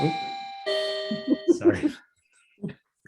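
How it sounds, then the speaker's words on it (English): Doorbell ringing indoors: a two-tone ding-dong chime rings out clearly, held for about a second, followed by a burst of softer clattering knocks, then quiet with a brief low sound near the end. "I get through a court session without a doorbell"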